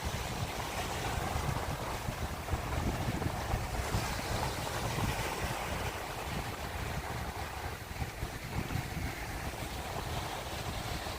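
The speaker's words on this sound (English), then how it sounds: "Wind doesn't show like a strong wind, but it is a pretty strong wind here." Strong wind blowing on an evening boardwalk by the ocean at Coney Island, Brooklyn, rushing steadily and loudly across the microphone over surf and waves, with no talking.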